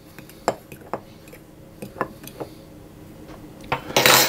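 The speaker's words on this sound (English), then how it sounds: "And I'll add the sugar in at this stage as well" Sugar being mixed into a scone mixture in a bowl, heard as a few sharp clinks and taps of a utensil against the bowl, ending in a brief burst of scraping rustle.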